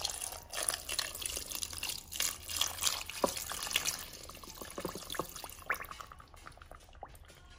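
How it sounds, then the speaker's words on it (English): Water pours steadily into a cooking pot of meat with a bubbling, splashing rush, continuous and fairly close, with a few drips near the end. "So now I'm going to just add some water."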